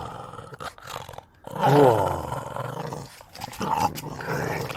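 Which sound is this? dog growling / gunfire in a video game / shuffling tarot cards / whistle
dog growling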